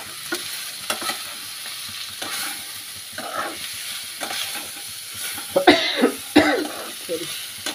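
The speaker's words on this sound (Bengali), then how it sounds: "কচুরলতিগুলো দিয়ে দিলাম, দিয়ে এবার ভালো করে কষিয়ে নেবো।" Taro stolons sautéing with prawns in a pan, a quiet sizzle with scraping stir strokes, interrupted by a few nearby coughs.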